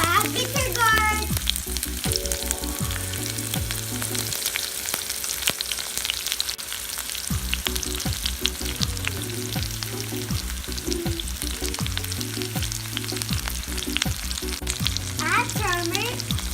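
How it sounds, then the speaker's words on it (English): Bitter gourd frying in a hot pan of oil, a loud continuous sizzle and crackle lasting throughout, with music playing underneath. "Now add bitter gourd."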